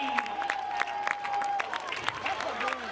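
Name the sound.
crowd clapping at high school football game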